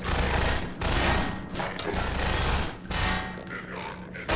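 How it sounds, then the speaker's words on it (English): Rapid automatic gunfire in Half-Life 2 crackles in dense, sustained bursts broken by brief pauses, loud and close, with no talking over it. "I think they're shooting that guy."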